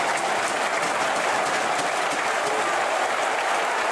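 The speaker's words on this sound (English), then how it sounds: "A full house here celebrate" A full-house record home crowd at a Bradford City football match against Colchester United cheers and applauds a goal in a steady, loud, dense roar of clapping and shouting with no let-up.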